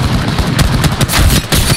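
Enemy gunfire in Apex Legends, rapid automatic shots crackling in dense overlapping bursts, loud and close, running continuously with no talk.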